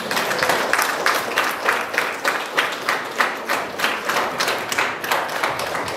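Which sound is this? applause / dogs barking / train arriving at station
applause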